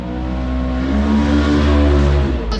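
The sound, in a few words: warmed-up car engine running, tuned with Holley Terminator X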